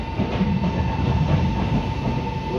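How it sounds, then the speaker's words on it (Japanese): An out-of-service 6800 series train rumbles loudly and steadily into platform 3 at Kanayama station, a dense low roar with a faint steady hum. "まもなく3番線に電車が参ります。"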